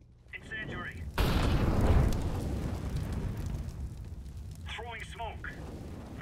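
Incendiary grenade going off in CS:GO on de_mirage, a sudden loud whooshing burst that settles into a sustained roaring crackle of flames, with brief in-game voice callouts before and after.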